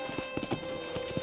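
Horse hooves clip-clop in an uneven walking rhythm through the Red Dead Redemption game, close and moderately loud, with a steady tonal hum underneath.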